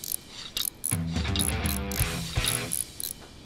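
Screws being fastened with a ratcheting tool during engine mounting in the Mechanic Simulator video game: rapid mechanical ratchet clicks and whirring, fairly close and continuous, with no talking.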